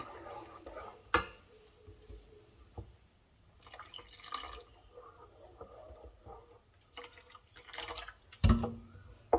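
Water is poured into a pot of broccoli almond soup and stirred, giving soft splashes, drips and scattered clinks. The sounds come in irregular bursts and stay fairly quiet and close.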